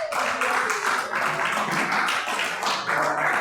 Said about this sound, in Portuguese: Nossa palmas bem forte.